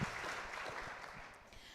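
Faint, distant applause from an audience at a webinar for its MC, a soft, steady patter that thins out over under two seconds.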